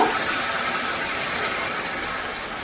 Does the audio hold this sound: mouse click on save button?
no